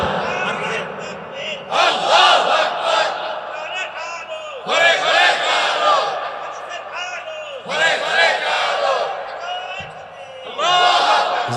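A large crowd at a religious sermon chanting the takbir, several loud, repeated collective shouts in bursts of roughly two seconds separated by brief lulls, with a lead voice calling between them.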